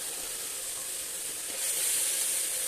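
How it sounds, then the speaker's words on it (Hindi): Grated carrots for gajar ka halwa roasting over high flame, a soft, even sizzling hiss that swells slightly toward the end, faint and alone. "ये जो छुन छुन की आवाज़ें हैं, बस ये आना बंद हो जाएं, तो बस हमारा हलवा जो है वो रेडी है"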